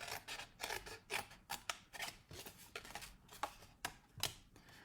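Scissors snip through paper while a small box is being made, a quick, steady series of close, crisp cuts with no speech.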